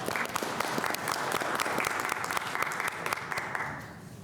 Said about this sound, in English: yes, applause for Jackie is in order.